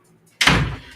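A door is slammed shut hard indoors: one sudden loud bang after near silence, then a long dull rumbling decay, with a faint knock at the very end.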